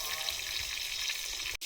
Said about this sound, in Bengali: আলুটা সাদা তেলে ভেজে নেব।